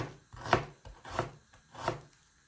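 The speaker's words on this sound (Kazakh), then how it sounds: "жуамызды майда етіп турап алдық" Onion being finely chopped with a knife on a board: three or four distinct, fairly soft chopping strokes spaced evenly and heard up close with no talking.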